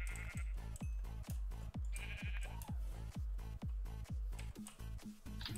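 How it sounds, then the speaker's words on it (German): Sheep bleating in Minecraft, short repeated blocky bleats in a quick rhythm, loud and close, with no talk over them. "Okay, bei mir sind 3 Schafe."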